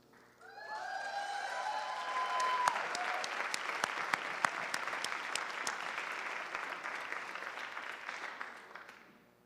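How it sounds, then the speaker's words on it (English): At a Canyons School District APEX awards ceremony, an audience bursts into applause that swells after a brief whistle or cheer, then holds as steady, dense clapping for several seconds before fading at the end. "Let's give another round of applause to Kirsten."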